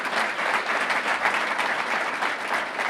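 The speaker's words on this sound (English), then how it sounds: "Let's give them a nice big round of applause." An audience at the 2019 Roseville State of the City Address applauds its host sponsor, Adventist Health, with a steady, dense burst of clapping that holds at an even level for about three seconds.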